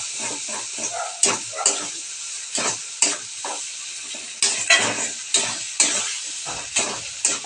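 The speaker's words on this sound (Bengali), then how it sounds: "ভালোভাবে মিক্স করে" Hilsa fish with kocho bata being stirred and mixed in a frying pan, repeated scraping strokes in an uneven rhythm over a soft sizzle, close up with no voices.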